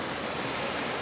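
Surf breaks on a Texas beach at Crystal Beach, a dense, steady roar of waves close by that carries on without pause and without voices.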